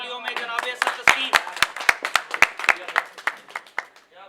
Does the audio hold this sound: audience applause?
yes